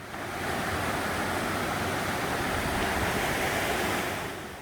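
Gwanheung Falls, one of twelve waterfalls, pours in a dense, unbroken roar of falling water that holds steady and loud throughout, fading slightly at the very end.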